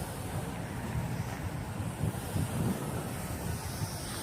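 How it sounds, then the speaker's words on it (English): Strong outdoor wind buffets the microphone in steady, dense rumbling gusts while a small Star Wars TIE Fighter drone flies near a construction yard, continuous and loud with no voices. "The wind is blowing it hard towards the construction yard."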